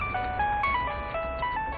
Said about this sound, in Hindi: तो फोन बज रहा था